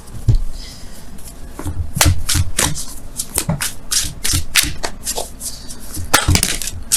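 Wisdom of the Oracle cards being shuffled by hand, a run of close, crisp riffling and sliding bursts with brief pauses between them, no voices.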